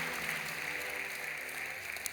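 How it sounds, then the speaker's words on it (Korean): Church congregation clapping in welcome during a Sunday worship service, a steady, fairly soft wash of applause filling the whole moment without pause. "크게 박수로 환영하십시오"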